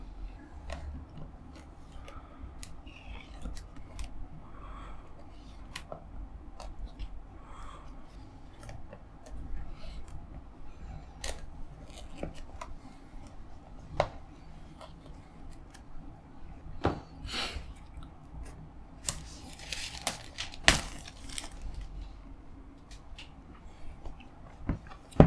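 Packaging of the Distilled board game Africa & Middle East expansion being opened, with quiet scattered clicks, scrapes and rustles of cardboard and plastic, faint and close, and occasional soft talk.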